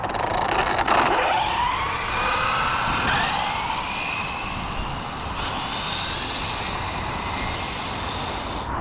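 An Arrma Speedrun RC car's electric motor gives a loud, high-pitched whine that sweeps upward as the car accelerates down a track. Road-like rushing noise runs continuously underneath.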